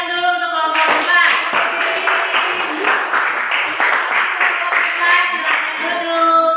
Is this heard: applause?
yes